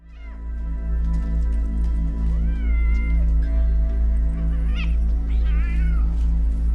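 A cat meows and caterwauls in drawn-out, wavering cries, several calls close and fairly loud over a steady low hum, with no voices.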